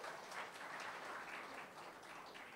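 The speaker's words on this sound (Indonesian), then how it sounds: "kasih tepuk tangan buat Tuhan Yesus" A church congregation claps together, a faint, distant wash of steady applause with no voices over it.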